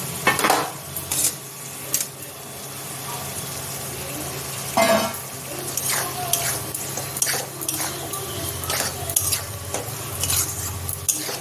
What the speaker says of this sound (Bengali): আলু সিদ্ধ হয়ে গেছে, ভেজে রাখা পটলগুলো দিয়ে দেবো।